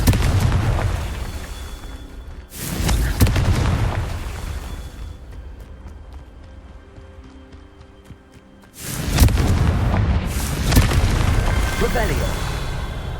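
Booming Confringo spell explosions from the Hogwarts Legacy video game: a pair of loud bursts early on, then a longer, sustained blast later, with rumbling tails over softer game ambience between them.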